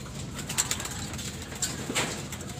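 Soft coos from a racing pigeon at a loft come in a few brief calls over steady outdoor background noise, with faint fluttering between them.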